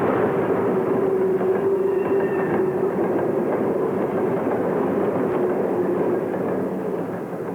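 A Mikado steam locomotive, number 446, hauls a 1951 Navy personnel train near Norfolk's Tidewater Junction, a loud, continuous rumble of rolling cars with a faint tonal hum and no talk.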